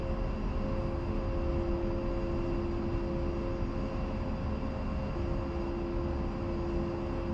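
An A-10C II Tank Killer jet engine in the DCS flight simulator, lined up on the runway, gives a steady, loud turbine drone with a constant whine over deep rumble, unbroken and with no talking.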